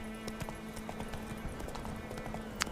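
Hooves of Geralt's horse Roach clip-clopping along a road in The Witcher 3, a steady rhythm of soft hoof thuds over a low ambient game hum, with no talk.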